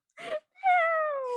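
A person imitates a cat's meow in a radio studio, giving a short nasal mew and then a longer drawn-out meow with a gliding pitch. The voice is close and clear, with no other talk.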